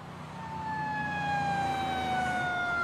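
Emergency vehicle sirens wail in the distance, their rising and falling tones sliding slowly downward over a low traffic hum, growing a little louder.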